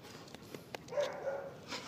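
A wet standard poodle gives a few short, soft whimpering yips outdoors, faint and brief, with quiet gaps between the sounds.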